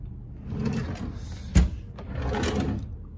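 A kitchen drawer in a cabin at Disney's Fort Wilderness Resort and Campground slides and bumps shut with a short, sharp knock in the middle. Softer sliding and rustling come before and after it, close by.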